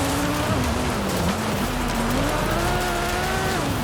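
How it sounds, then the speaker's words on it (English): A car slides sideways on dirt after the e-brake is pulled, with a loud, continuous engine note that rises and falls under a gritty wash of spraying dirt and tire noise, close and unbroken. "I ripped the E-brake there, that's why I got sideways."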